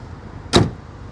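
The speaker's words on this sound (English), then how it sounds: "The way that door shuts" A single solid, heavy thunk as the door of a Milano Maroon 1966 Chevrolet Corvette C2 convertible is shut, close and loud, over a steady low background hum.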